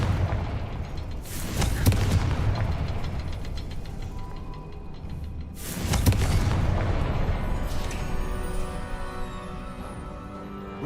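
Hogwarts Legacy's Confringo fire spell erupts in two heavy, booming explosions a few seconds apart, each with a rumbling tail, over a low continuous game ambience.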